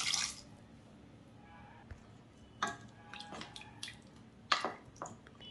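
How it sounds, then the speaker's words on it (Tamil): Water being poured into mutton for a Kerala-style mutton gravy: a bright splash at the start, then a few scattered drips and splashes at irregular intervals. "ஒரு 1 கப் அளவுக்கு தண்ணி சேர்த்துக்கலாம்."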